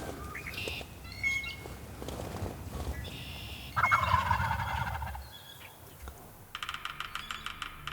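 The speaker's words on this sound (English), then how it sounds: "I heard distant gobbles coming through the woods." Wild turkeys gobble repeatedly in bursts through the woods, some distant and one louder and closer, with scattered clicking and rustling between calls.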